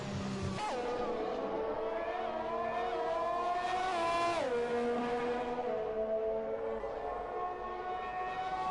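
Race car engine on a flying lap on medium tyres at Baku in a racing video game, a loud continuous high-pitched whine rising and falling through gear changes, with a sharp downshift and deceleration midway before pulling away again.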